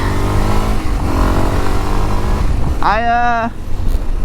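A motorcycle engine idles with a steady rumble, then revs briefly in a quick rising whine before settling back.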